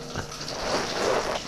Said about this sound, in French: Attention, je vais faire un effet pluie.